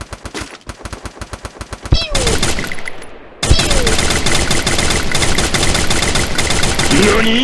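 Rapid automatic gunfire from the Free Fire battle royale game crackles in quick bursts, then a dense, loud, continuous volley takes over with shots layered close together, while voices talk over it.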